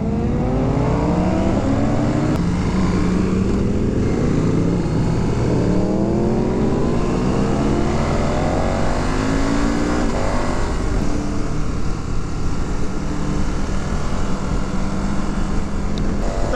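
A KTM 1290 Super Adventure S motorcycle engine runs steadily while riding, a loud continuous drone with rising and falling pitch sweeps as the rider shifts and accelerates, alone without talk throughout.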